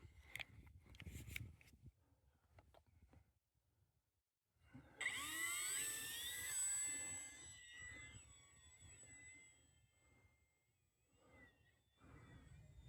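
A small UMX RC plane's electric motor spins up on a 3S battery, a sharp whining buzz that suddenly surges loud, then settles into a fluctuating hum with quieter gaps and handling noises before and after.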